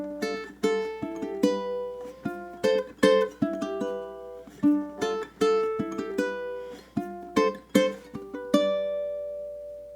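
A piano plays the eight-bar interlude of a Zelda tune, bright bouncing chords in a lilting triple rhythm, clear and close with no voices, ending on a held note.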